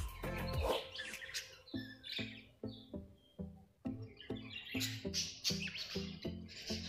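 Many small bird chicks in a breeding aviary chirp in quick repeated bursts, close and fairly loud, with short gaps between the clustered calls and no talking.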